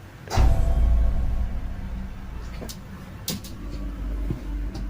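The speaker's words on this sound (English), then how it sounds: "It sounds like her closet door fell." A closet door falling over in a child's bedroom at night: a single loud, low thud near the start, followed by a sustained rumble and a few faint clicks and knocks.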